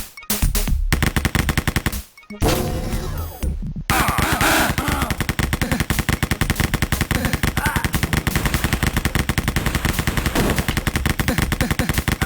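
Rapid machine gun fire rattles in long, loud bursts in the video game Wolfenstein. After a few short opening volleys and brief gaps comes a sustained, close stream of shots.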